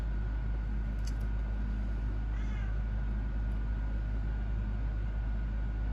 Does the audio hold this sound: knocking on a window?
no